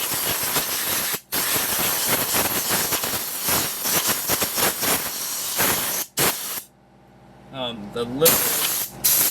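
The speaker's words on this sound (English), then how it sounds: "careful use of compressed air, I really think it's going to give cleanliness we need." A compressed air nozzle blows clean disassembled hydraulic cylinder parts from a Kobelco logging excavator, with long loud hissing blasts broken by brief pauses, then a softer rattling spray near the end, while someone talks over it.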